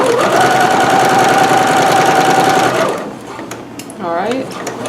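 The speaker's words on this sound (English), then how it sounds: "Start at the top point, stitch, back stitch a little, and then follow my chalk line." A sewing machine stitches a dart along a chalk line in a steady, loud, close whir that stops after about three seconds, followed by a brief voice.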